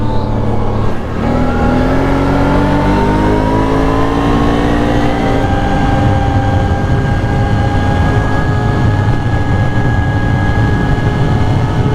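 Motorcycle fitted with an HMF Racing full exhaust pulls away hard, its engine note climbing steadily in pitch for several seconds and then holding a loud, close drone while the bike speeds off.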